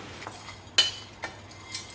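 A spoon stirs masala into a semolina (rava) mix in a pot, giving a few light, sparse scraping clinks close by, with one sharper knock near the middle.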